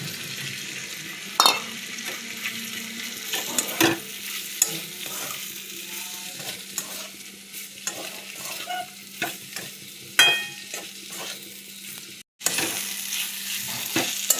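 Red lentils and chopped tomato are stirred in a hot pan, making a soft sizzle under repeated scraping and knocking strokes of a spoon, with a short pause near the end.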